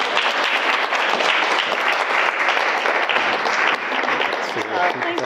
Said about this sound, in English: Can we ask for a round of applause for Simone,